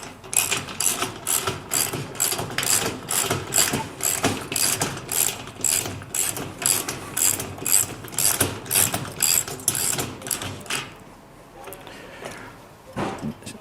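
Ratcheting wrench tightening the front axle nut on a cart, a steady run of rapid, evenly spaced clicks for most of the time, then a brief pause and a few final clicks.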